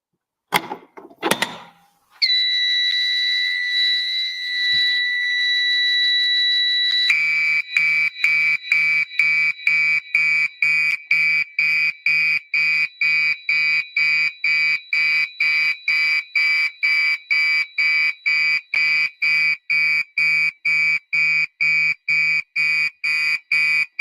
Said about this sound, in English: This right here is the PFS MG1 fire alarm pull station, and it's wired into the ADT Unimode 10UD on my fire alarm demonstration board